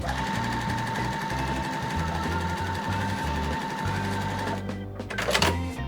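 A sewing machine stitches a quilt with a fast, steady mechanical whirring and pulsing rhythm that stops near the end, followed by a few rustling handling noises.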